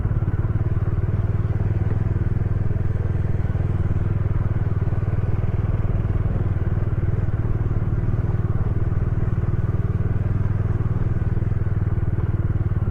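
A Bajaj Dominar 400 motorcycle rides off-road on rough Ladakh terrain between Pangong Lake and Hanle, its engine a steady, close, loud drone with continuous rattling and clatter throughout, no talking.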